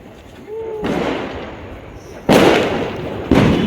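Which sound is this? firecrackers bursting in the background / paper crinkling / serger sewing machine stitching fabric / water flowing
firecrackers bursting in the background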